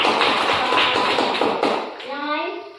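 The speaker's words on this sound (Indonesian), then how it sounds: "tepuk tangan untuk Sophia" Schoolchildren clap for a classmate in a classroom, a quick burst of many hands slapping together that mixes with children's voices and then fades into murmuring.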